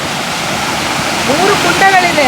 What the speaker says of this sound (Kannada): ಇಲ್ಲಿಂದ ನೀರು ಚಿಲುಮಿಸಿ ಹೊರಗೆ ಹೋಗ್ತಾ ಇದೆ.